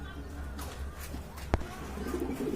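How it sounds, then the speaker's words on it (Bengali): Pigeons at a pigeon market give faint, low cooing beneath steady crowd murmur and a single sharp close knock partway through. "বিশাল সাইজের কবুতর"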